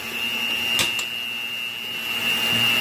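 A KitchenAid stand mixer whirs steadily as it spins peanut butter blossom cookie dough, a continuous close motor drone with a faint high whine and a couple of brief knocks partway through.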